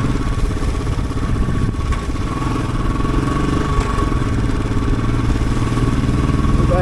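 A Royal Enfield Bullet motorcycle climbs a snowy mountain road in Spiti, its single-cylinder engine thumping steadily and loudly right up close with a constant rumble throughout.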